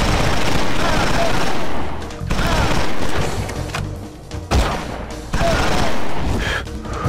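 Loud, dense gunfire from the video game XIII, with sustained bursts of rapid shots and booming impacts in waves, a brief lull in the middle before the firing resumes.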